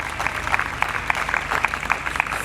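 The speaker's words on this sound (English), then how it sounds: "A round of applause for Art of Living." Outdoor crowd clapping at an International Day of Yoga gathering in Bernie Spain Gardens, a brief burst of scattered applause at moderate distance.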